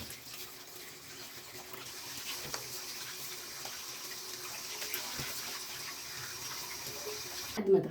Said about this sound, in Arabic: بعد ما اتغسل تحت الحنفية زي ما حضرتك شفتي